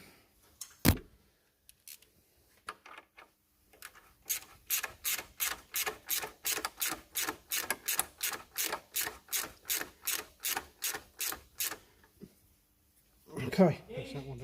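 A ratchet with a 10mm socket being worked on a Range Rover Sport 3.0 TDV6 engine, clicking in a rapid, even run of about twenty strokes after a few scattered knocks, close by, then a brief clatter at the end.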